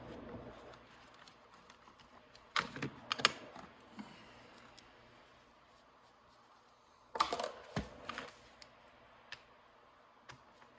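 A ratchet with a 13 socket works bolts loose on a Venom 1500w electric ATV, two short bursts of quiet clicking and creaking separated by near silence, no voices.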